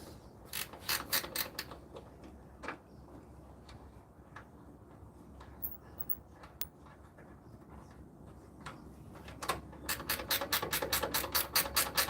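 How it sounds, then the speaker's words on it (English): Bolting a part onto a 1984 Buick Regal: rapid bursts of ratchet clicking open and close the stretch, with scattered metallic ticks and handling noises in between, fairly quiet and near. "So I just want to bolt it on a little bit better than what it was"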